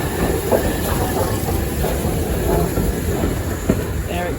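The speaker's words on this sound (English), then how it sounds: "There it goes, and it's BR black livery with its standard 5 tender. It is a standard 5 locomotive" A BR Standard 5 steam locomotive in black livery with its tender rolls past at Loughborough Central on the Great Central Railway, a steady rumble with rhythmic wheel clatter, close by throughout.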